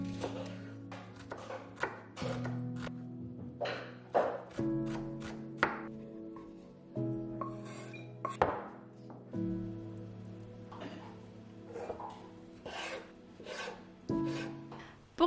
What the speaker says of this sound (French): il suffit de découper un petit oignon ou la moitié d'un oignon tout finement